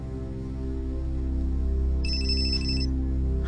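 A phone ringtone trills for a little under a second in the middle of a quiet indoor scene from a dubbed drama, clear and fairly near over a low steady hum.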